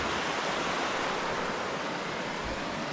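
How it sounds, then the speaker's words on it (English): A small waterfall drains into a river during a hike in Prince William Sound, a dense, steady rushing hiss of water, continuous and fairly close with no voices. "There's a little waterfall, and it's coming down, draining into the river."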